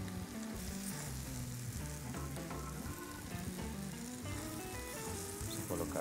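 Root vegetables added to a hot pot of stew, sizzling and frying loudly and continuously with faint stirring clatter throughout.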